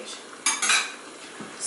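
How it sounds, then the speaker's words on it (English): A utensil scrapes and clinks against a metal pot in a few quick strokes while stirring efo riro, a Nigerian vegetable stew, close up, with faint sizzling between. "So just stir it a bit."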